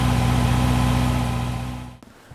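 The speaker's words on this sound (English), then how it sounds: "Just heat the engine up a little bit. Give it a little run for a little while." A 2019 Honda CB650R motorcycle engine idles steadily while warming up, a close, even mid-low drone that cuts off abruptly near the end, leaving a brief quiet with a small knock.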